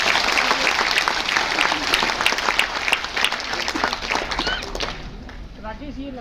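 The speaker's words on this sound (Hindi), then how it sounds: "एक बार उनके लिए आप जोरदार ताली" Loud, dense audience applause at a Hindi Day event in Jayapur, sustained clapping throughout before thinning out near the end.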